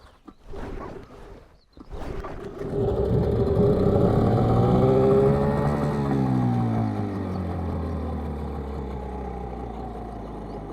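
A Tohatsu 9.8 outboard boat motor sputters, catches on the second try, and settles into a loud, steady rumbling drone with rising and falling pitch, heard up close.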